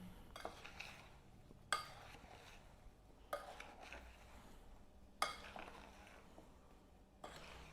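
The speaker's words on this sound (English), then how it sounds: "you can just grab it with your spoon and kind of fold it back up to toss, coating all your apples" Spoon tossing apples with crisp topping in a bowl, soft quiet scraping punctuated by four or five sharp clinks of the spoon against the bowl, close up and otherwise hushed.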